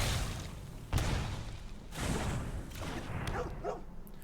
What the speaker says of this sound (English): Bark, bark.